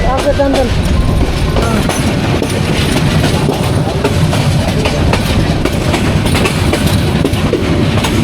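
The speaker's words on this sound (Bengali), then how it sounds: "গৌরীপুর রেলওয়ে স্টেশন থেকে বের হয়ে খুব অসাধারণ একটা কাজ নিয়ে খাল বিলের পাশ চলতে চলতে চলতে" Bijoy Express train running on rails between Bhairab Bazar and Mymensingh past Gouripur station, a steady loud rumble of wheels and carriage noise throughout, with voices talking over it.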